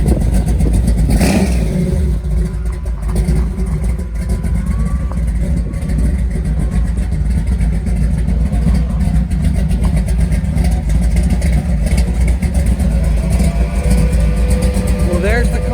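A 1937 Ford Tudor De Luxe engine runs loud and steady for a long stretch, with a sharp rev near the start, while voices talk over it.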